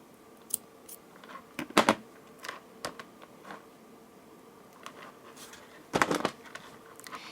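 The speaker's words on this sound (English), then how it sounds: "Now I will take the scissors, cut the thread," A few sharp snips and clicks of scissors cutting thread, close up, scattered among quiet handling noises.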